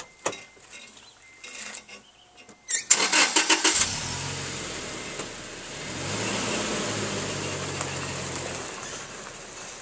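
A truck engine cranks over and catches about three seconds in after some faint clicks and knocks, then settles into a steady, fairly loud idle rumble that continues alone to the end.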